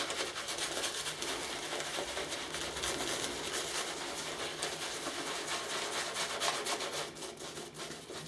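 Shaving brush working lather onto a face before a shave with a Karve Christopher Bradley stainless steel razor, a close, continuous soft wet rubbing and swishing at low volume, without talk.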